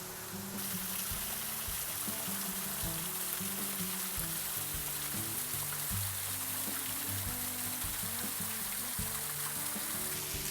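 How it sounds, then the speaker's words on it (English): A small stream runs into a little waterfall outdoors in Zamora, Ecuador, making a faint, steady rushing and splashing that continues unbroken with no voices. "It's coming out of one part here to this little waterfall area."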